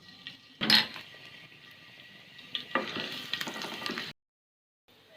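One spoonful of garlic hits half a spoon of hot oil in a pan, giving a sharp sizzle with a clink, a steady frying hiss, then stirring scrapes before the sound cuts off.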